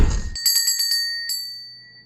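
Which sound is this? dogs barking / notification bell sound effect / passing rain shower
notification bell sound effect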